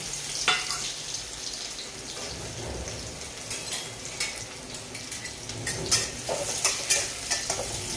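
Crushed garlic fries in hot oil in a wok, giving a close, continuous crackling sizzle broken by scraping and clattering stirs.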